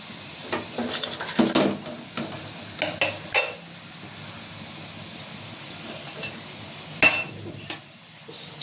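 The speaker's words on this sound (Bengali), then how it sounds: "আমি এখানে তেল গরম করতে দিয়েছি, তেলে ভাজতে" Hot oil sizzles and hisses steadily up close while items fry, punctuated by bursts of louder spitting and clinks of a utensil against the pan.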